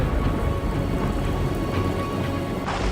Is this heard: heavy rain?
yes